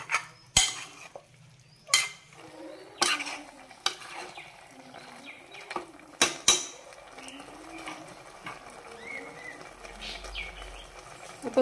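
Avial vegetables being mixed in a pan for a Kannur sadya-style dish, with a string of sharp spoon-on-pan scrapes and knocks at irregular intervals over a quiet background.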